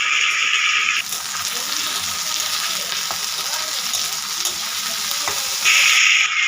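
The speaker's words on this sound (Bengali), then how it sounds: "এখন আমি কড়াইতে তেল দিয়ে দিলাম ভাজার জন্য, আর এটাতে পেঁয়াজ দিয়ে দিব" Onions frying in oil in a wok, a steady loud sizzle that runs throughout with occasional stirring scrapes and brief brighter hissing bursts at the start and end.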